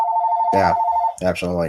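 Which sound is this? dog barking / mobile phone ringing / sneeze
mobile phone ringing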